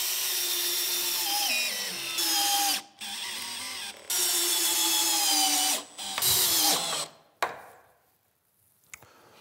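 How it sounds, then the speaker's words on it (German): A power drill drives screws to fasten ladder rungs onto a wooden hunting stand outdoors: several loud, close whining bursts of the motor, each slowing as the screw seats, separated by short pauses, then falling quiet. "Und so schrauben wir das jetzt fest und arbeiten uns Sprosse für Sprosse nach oben."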